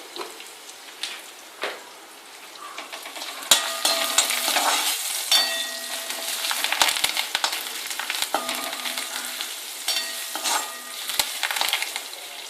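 Mustard seeds and other tempering spices sizzle and crackle in hot oil in a pan, with sharp pops and occasional scraping stirs, close and continuous.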